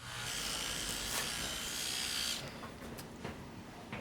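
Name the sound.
hair dryer running in bathroom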